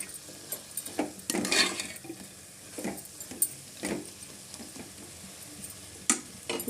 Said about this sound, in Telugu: ఇవన్నీ కలిసేటట్టు కలుపుకోవాలి.